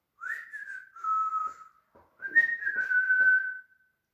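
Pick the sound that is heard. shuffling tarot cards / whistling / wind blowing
whistling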